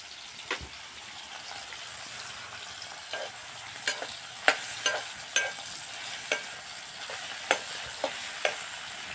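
Peanuts tossed into a hot frying pan in a village kitchen, giving a steady hiss of frying with scattered crisp pops and clicks of stirring that build through the passage, close and without talk.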